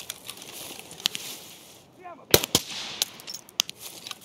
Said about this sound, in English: He was not even shooting near me. Somebody else is out here.